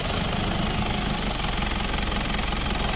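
A 2016 Mitsubishi Pajero with a low-power fault and a freshly cleaned airflow sensor runs at a steady, close, rumbling idle with no pauses.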